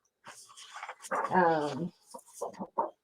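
A dog barks and gives a drawn-out, whining yelp close by, in a short burst of rough calls with a brief pause before a final sharp bark.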